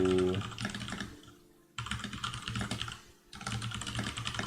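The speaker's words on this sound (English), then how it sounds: "sorry, I'm typing on the other screen." Fast clattering keystrokes on a computer keyboard come in two bursts separated by short pauses, close and busy, with no talking.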